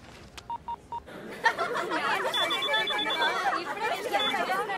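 A telephone being dialed: three short keypad tones near the start, then steady overlapping chatter and voices fill the rest.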